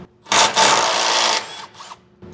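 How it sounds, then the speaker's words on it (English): Power tool with a 15mm socket spinning off bump stop nuts on a 2023 Ford F-250, one close, loud whirring burst of about a second, then a brief second burst and a short tail. "I'll just take a 15mm socket and get our 2 nuts holding our bump stop on removed."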